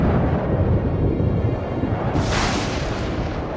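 Thunder from an approaching storm in a cartoon, a continuous deep low rumble that swells with a brighter crackling roll near the end, steady and loud with no speech.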